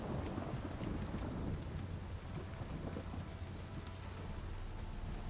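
Rain falls in The Witcher 3 on Nintendo Switch, a steady hiss of downpour with a low rumbling undertone that could be thunder, continuous and fairly even, with no voices.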